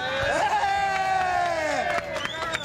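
Afogados football supporters fill a stadium with a steady roar of crowd noise and scattered shouts, a sustained whistle-like tone running through the first two seconds, with voices and cheering mixed throughout.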